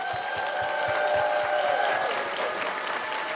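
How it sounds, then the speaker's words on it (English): A round of applause from the audience at a furry convention panel, dense continuous clapping at moderate level, steady throughout. "can we get a round of applause?"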